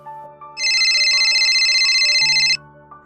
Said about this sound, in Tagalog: muling tumunog ang cellphone ni Elise